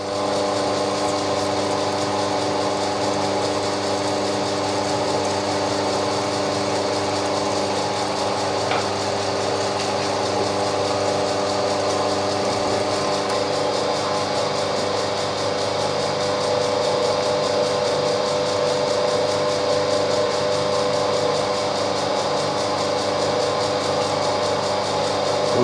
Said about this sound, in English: I'll drill it through 7/32, which is slightly smaller than quarter